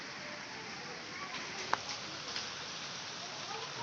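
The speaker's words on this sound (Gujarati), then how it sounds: "આ તો જો અમે વરસાદમાં બહાર આવ્યા છીએ આટો મારવા" Steady rain falls outdoors in a waterlogged neighborhood as a constant soft hiss, with one brief sharp tap partway through.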